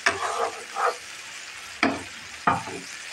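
Fish cooks in a pan with added water, a low bubbling sizzle punctuated by a few distinct scraping stirs of a spatula.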